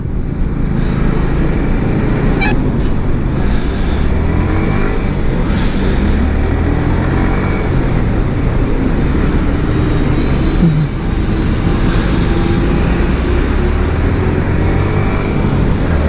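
Steady, dense road traffic noise heard from a motorbike on a solo ride toward Bengaluru, a continuous loud roar of engines and tyres with occasional horn-like tones, no talking.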